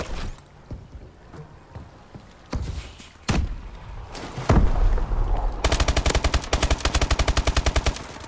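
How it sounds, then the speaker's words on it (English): Call of Duty: Advanced Warfare gunfire: scattered single heavy shots and thumps at first, then a loud, steady automatic burst of evenly spaced rounds rattling close for the last few seconds. "Bullets."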